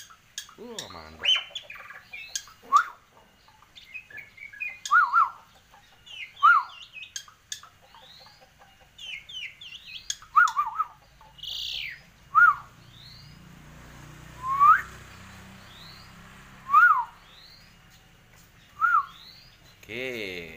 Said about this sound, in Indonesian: berbagai jenis burung berkukuk, burung kutut, burung bio